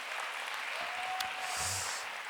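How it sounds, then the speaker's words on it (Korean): Congregation applause during a young adults' church worship service, a moderate, steady patter of clapping heard at some distance in a large room, with a brief tone and faint voices beneath. "우리 박수 한번 줍시다."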